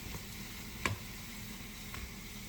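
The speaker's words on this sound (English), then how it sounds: "So you just have to stir as it's getting brown on other sides." Puff puff dough balls frying in hot oil while being stirred, a quiet, even sizzle with a couple of brief clicks and taps from the stirring.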